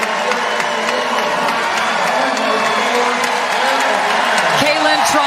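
Home fans at Gonzaga's arena swell into sustained cheering and whoops as players come out during an NCAA women's basketball game against Utah, a loud, continuous roar with a commentator's voice running over it.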